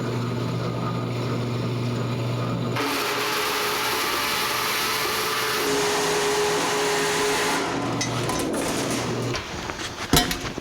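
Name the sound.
bandsaw cutting a part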